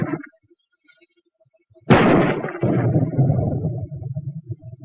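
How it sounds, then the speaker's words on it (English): Armor-piercing .30 caliber ammunition smashing through a wall at up to 200 yards: a single loud, sudden impact crash after near-silence, followed by a few seconds of rumbling, rattling debris. "armor-piercing ammunition can smash through this kind of wall any time"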